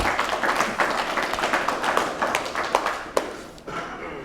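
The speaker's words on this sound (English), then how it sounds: "Can give her a round of applause." An audience at a school alumni launch claps in a brisk, continuous patter of hands, fairly close, with one sharper clap standing out near the end before it thins.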